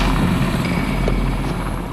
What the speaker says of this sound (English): As the helicopter touches down,